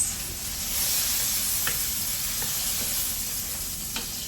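Mushrooms fry in a pan with a steady bright sizzle, while a few soft scrapes and taps from stirring cut through the hiss, close and continuous with no talking.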